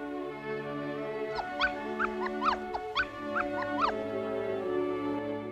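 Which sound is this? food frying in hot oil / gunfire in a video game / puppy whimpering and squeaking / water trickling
puppy whimpering and squeaking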